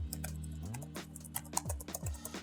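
Close, crisp key clicks from the detachable keyboard of an ASUS Vivobook 13 Slate OLED with 1.4mm key travel, a quick irregular patter of typing over a low background hum.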